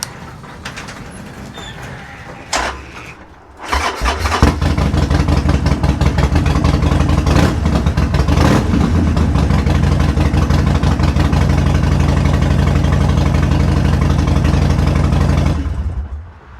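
A Harley-Davidson Sportster motorcycle engine cranks and catches after a few seconds, then settles into a loud, steady, lumpy idle close by in a garage before shutting off at the end.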